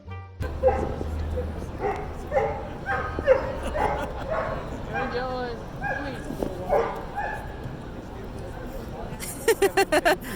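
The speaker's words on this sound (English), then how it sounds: "Here's a quick little clip of the dog" A dog barks, yips and whimpers in a run of short calls over a crowded background with babble and a phone-like voice, ending in a quick burst of sharp barks.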